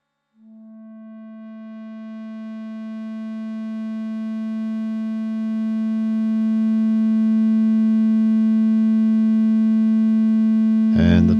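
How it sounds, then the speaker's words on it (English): Steady 220 Hz test tone run through a classic guitar pedal, a pure buzzy harmonic-rich note that slowly swells louder over about eleven seconds before cutting off with a brief click. "Okay, here we go at 220 hertz."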